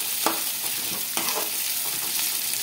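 Sliced onions and curry leaves frying in hot oil with cumin and mustard seeds. A close, steady sizzle runs throughout, with a few sharp scraping stirs.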